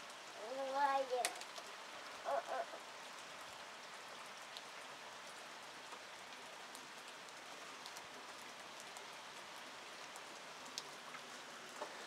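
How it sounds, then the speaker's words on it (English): Steady rain falls outdoors in a soft, continuous patter, with a child's and an adult's voices heard briefly near the start. "You want to play in the rain?"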